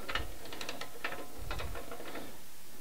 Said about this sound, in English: Simply take my jack bolt, back it off a little bit.